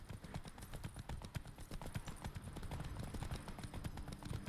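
A horse gallops in The Witcher 3: Wild Hunt, its hooves pounding in a fast, steady clip-clop rhythm that continues throughout at a faint, moderate distance.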